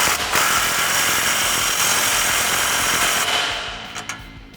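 A 17mm socket tightens an exhaust bolt on a 2009-2018 RAM 1500 with the 5.7L engine, giving a continuous loud, close whir from a power tool for about three seconds before it winds down into quiet.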